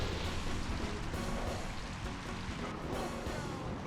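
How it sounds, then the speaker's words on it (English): Rain falls in the Pokémon Colosseum video game as a soft, continuous hiss that stays quiet and even for a few seconds. "Oh, there's the rain."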